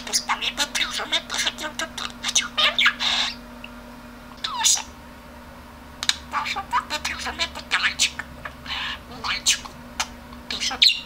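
A pet talking parrot squawks and chatters in bursts of sharp, shrill calls with short pauses between them, loud and close, against a faint steady hum.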